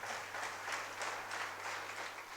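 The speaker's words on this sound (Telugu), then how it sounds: "చప్పట్లతో మనం ఆహ్వానిద్దాం." A congregation at a Sunday Telugu Mass in a Hyderabad church applauds to welcome a new parish priest, a faint but steady wash of clapping that swells and eases over a couple of seconds.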